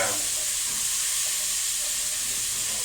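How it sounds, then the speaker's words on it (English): Broth hits the bottom of a hot Dutch oven holding beef for steak Mexicana, giving a steady, loud, close hiss of sizzling and steam that holds evenly throughout. "a spoonful of this broth, and dump it on the bottom in the Dutch oven to kind of loosen the"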